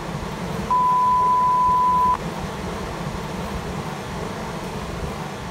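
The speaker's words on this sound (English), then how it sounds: "whoever edited this put in those beeping sounds like when you swear" A single censor beep edited over a gold prospecting video beside a river, one steady pure tone lasting about a second and a half over constant flowing-water noise, with no talk.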